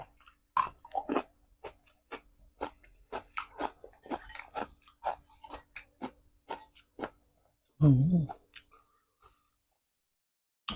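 Close-up chewing of crunchy oyster salad with young leucaena shoots: a rapid series of sharp, crisp crunches in quick bites, with a short vocal sound near the end and quiet between bites.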